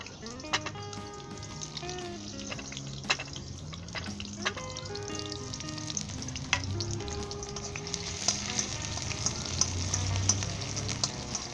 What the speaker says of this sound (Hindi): अदरक को सौते कर लें 1 मिनट के लिए।